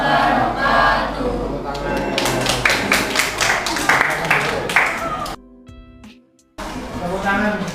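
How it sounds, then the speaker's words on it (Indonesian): Students in a classroom break into applause, several seconds of brisk clapping mixed with voices, then a short quiet pause before noise resumes. "Tepuk tangan untuk kalian semua"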